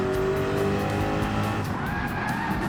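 Race car tyres squealing as the car understeers through a corner in Gran Turismo 7, a loud sustained screech over engine roar, shifting pitch partway through.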